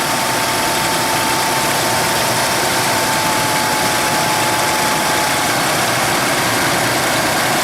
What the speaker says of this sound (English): No cold start rattle, but momentarily I get quite a tapping down in here